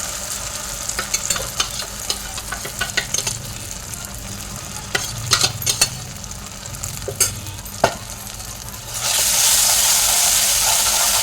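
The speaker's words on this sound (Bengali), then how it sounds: "এবারে জিরে ধনে আমি গুলিয়ে রেখেছিলাম, এবার এটা দিয়ে দিলাম।" Cumin and coriander paste hits hot oil in a pan, crackling and sizzling loudly while a spatula scrapes and taps in irregular strokes, ending in a strong steady hiss.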